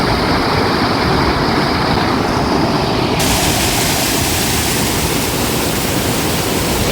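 Forceful rushing water in a village stream, a loud, continuous roar of churning flow filling the whole clip, close and unbroken, with no voices.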